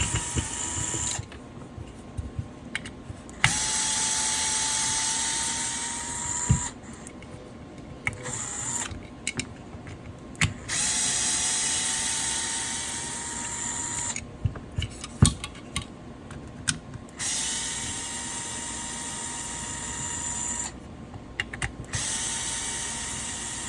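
Small silver screws are backed out of an airsoft gun lower with a small electric driver, giving repeated whirring bursts separated by pauses and light clicks, close and moderately loud.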